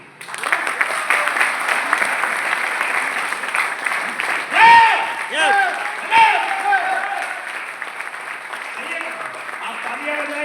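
An audience claps steadily through a political leader's speech, a dense sustained wash of applause with brief voices calling out over it near the middle.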